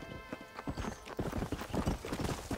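Hooves clip-clop in a quick, steady rhythm as a horse moves through the Red Dead Redemption video game, loud and close, with a faint whinny-like tone underneath and no speech over it.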